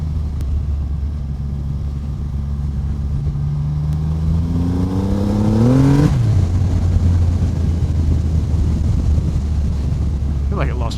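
A 2024 Triumph Rocket 3 GT Storm motorcycle engine rumbles while riding at low revs, its pitch climbing steadily before a gear change drops it back to a deep throb, with wind buffeting the microphone.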